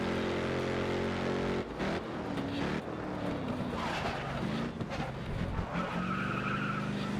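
A race car in GRID Autosport revving hard and skidding through corners, its engine pitch climbing and falling as tires squeal loudly and up close, with no talk.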